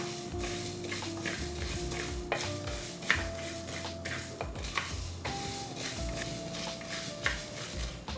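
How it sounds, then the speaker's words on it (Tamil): Green gram is dry-roasted in a pan, with soft stirring scrapes and light sizzling at a low level. Temple songs play faintly from nearby underneath. "இந்த பாசிப்பயிரை கொஞ்சம் நல்லா வறுத்துக்கலாங்க. நல்ல மணம் வர அளவுக்கு கொஞ்சம் நல்லா வறுத்துக்கலாம்."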